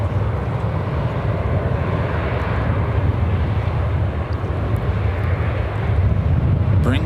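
An Icelandair airliner passes at Chicago O'Hare, a broad, steady jet roar holding at an even loudness for several seconds, with no clear voices over it.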